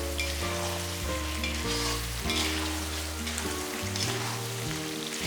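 Chettinad chicken fry sizzling hard in oil over high flame, a loud continuous crackle with stirring, and a steady low tonal hum underneath throughout.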